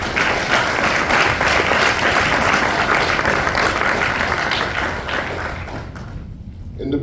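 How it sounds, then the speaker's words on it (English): An audience at a science fair speech gives a round of applause, steady thick clapping from a crowd that holds for several seconds and then thins out toward the end. "Let's give those a round of applause."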